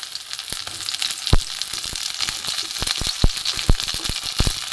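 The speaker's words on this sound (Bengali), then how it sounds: "এবার হালকা তেল দিয়ে আমি পটলগুলো ভেজে নেব।" Pointed gourd (potol) fries in light oil, giving a dense, loud close sizzle punctuated by many sharp pops and spatters at irregular intervals, with no talking.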